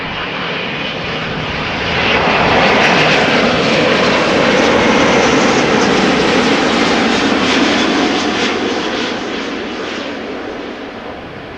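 An airliner's engine roars at Amsterdam Schiphol Airport, a loud, broad rushing drone that swells as the plane passes close and then slowly fades.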